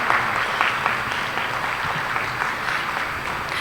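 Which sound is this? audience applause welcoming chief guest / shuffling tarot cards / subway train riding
audience applause welcoming chief guest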